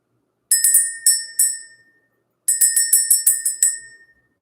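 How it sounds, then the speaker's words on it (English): A small bell rung in a spiritual energy-clearing ritual, struck in two bursts of rapid bright strikes with ringing decay between, clear and close, with no talking over it. "Let's ring the bell, let's clear out the energy"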